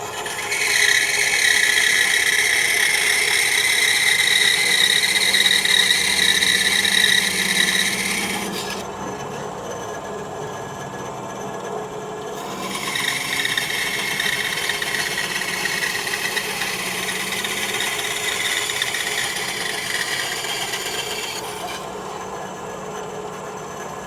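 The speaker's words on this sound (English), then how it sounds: "So let's go to the bandsaw." A bandsaw cuts through wood in a woodturning shop, a loud steady rasping whine with high-pitched cutting noise that drops out twice as the blade pauses, under a constant motor hum.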